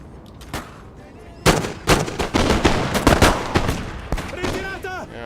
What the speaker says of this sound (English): It's time to shoot them down.